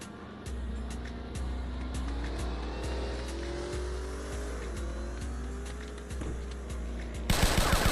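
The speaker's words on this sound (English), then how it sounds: "Empty in the mag on Wade" Video game gunfire as a magazine is emptied: a steady run of loud, evenly spaced shots over a constant low engine-like drone, ending in a harsh burst of noise.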